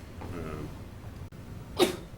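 A single sharp sneeze near the end of a quiet town board of selectmen meeting, following faint background talk and room noise.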